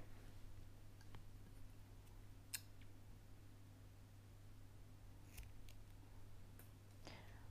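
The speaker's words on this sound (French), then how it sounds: "et couper mon fil" Scissors snipping knitting yarn after a scarf is finished, a few faint, sharp cuts scattered over a quiet room with a low steady hum and no talking.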